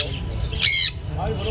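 Caged birds at a busy flea market give one loud, short squawk over a steady background hum of the market.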